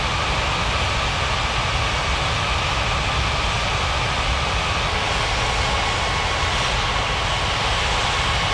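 Steady, loud airliner engine roar as a plane taxis toward the gate at Springbrook airport in the game Unmatched Air Traffic Control, an even broadband drone with a faint high whine and no talk.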